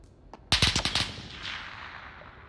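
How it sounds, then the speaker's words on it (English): Gunfire in the Call of Duty video game: a sharp rapid burst of several close shots, each a hard crack, followed by a fading echoing tail, with no talk over it. "Who's shooting at us?"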